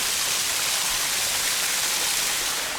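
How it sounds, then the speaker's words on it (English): Waterfall on a Great Smoky Mountains backpacking trail in Tennessee/North Carolina, a steady, dense broadband rush of falling water that stays loud and constant throughout, with no voices. "Neat waterfall."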